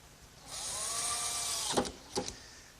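A power drill drives screws into wooden workbench pieces, a faint whirring run for about a second followed by two short clicking bursts as the screws seat.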